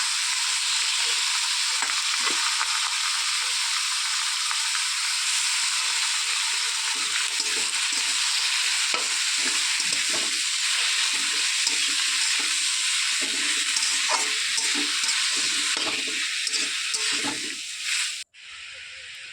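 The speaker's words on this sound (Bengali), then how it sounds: "এরপর কড়াইয়ে দিয়ে দেবো কেটে রাখা কুমড়োগুলো দেওয়ার পরে 5 মিনিট মতন ভালোভাবে ভেজে নেব।" Chopped ash gourd sizzles steadily in a hot wok, a continuous close frying hiss with frequent scraping stirs layered over it, holding loud for nearly the whole stretch before cutting off abruptly at the end.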